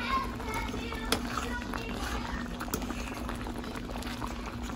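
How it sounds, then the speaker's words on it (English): Chicken cooking in bubbling oil in a non-stick pan, a steady close sizzle and bubbling hiss with faint scattered pops throughout. "Okay, so it's boiling."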